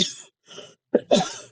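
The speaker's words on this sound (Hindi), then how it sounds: "सॉरी, थोड़ा सा खांसी हो गया है।" A few short, breathy coughs close by, two soft ones followed by a pair of harsher throat-clearing hacks, with no talking.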